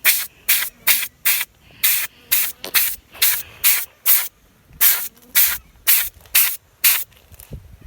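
Air bursts repeatedly from a tyre with its valve removed, blowing out dust in short, loud hissing spurts of roughly half a second each, about fourteen in a steady rhythm, close by with no talking.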